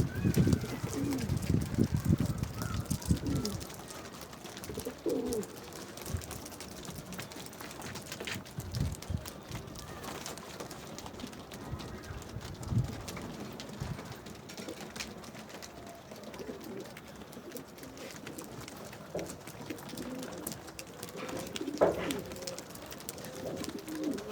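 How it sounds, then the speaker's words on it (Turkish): Local Adana pigeons coo in low, soft repeated calls throughout, mixed with wing flutters, shuffling and faint background chatter, a busy, continuous loft atmosphere. "yerli kuşları böyle"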